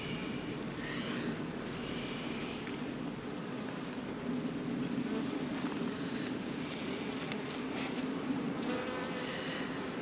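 Dense honey bee buzzing from a colony worked on a hive frame during beekeeping, a steady close droning hum that holds throughout without talk.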